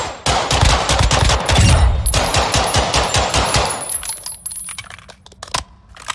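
Rapid bursts of gunfire from a weapon being test-fired at the firing range in Call of Duty: Modern Warfare II, loud and dense for the first few seconds, then thinning out to scattered single shots with mechanical clinks.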